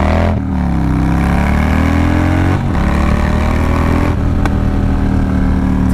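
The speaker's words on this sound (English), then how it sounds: "It's got that nasty little backfire." A new Harley-Davidson motorcycle engine drones loudly and steadily up close, its pitch rising and dipping as it revs, with brief breaks that may be backfire pops; no one talks.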